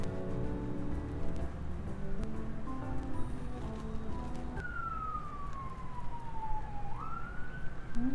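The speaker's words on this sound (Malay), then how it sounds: "Okay, kita dah clear daripada polis" A police car siren sounds in the distance, a clear wailing tone that sweeps down and then rises again, heard faintly through a constant rushing, rain-like background noise.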